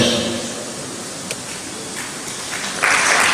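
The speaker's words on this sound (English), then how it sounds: "Please keep clapping on the chairman who holds this microphone" Steady crowd applause at a physical sciences conference fills the space, a dense patter of many hands clapping that swells louder near the end.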